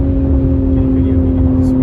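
Steady engine drone and road noise from a 2021 Jaguar F-Pace S R-Dynamic accelerating in fifth gear, a loud, close, even hum with a steady tonal whine.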